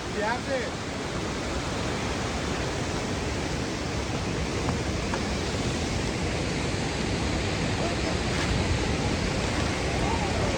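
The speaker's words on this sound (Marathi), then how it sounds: "बेकार पाऊस पडतो सकाळपासून." Heavy rain falls steadily after a whole night and morning of downpour, with water flowing over a jammed road, making a dense, continuous hiss that holds unbroken for the whole stretch.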